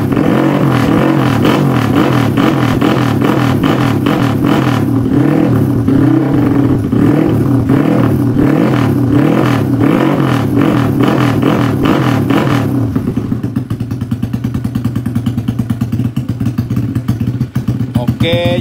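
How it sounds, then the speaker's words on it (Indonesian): A restored Yamaha Jupiter MX motorcycle with a 174cc racing-built engine idles and revs loudly up close, a rough rhythmic putter that settles into a steadier idle toward the end. "Oke, jadi alhamdulillah unit ini sudah hidup ya engine-nya."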